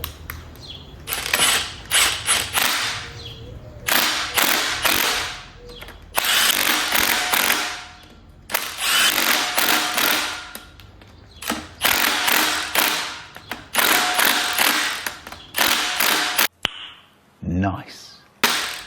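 Ratchet wrench tightening bolts during a cam install on a 5.3L truck engine, loud close bursts of rapid clicking in repeated runs with short pauses between them.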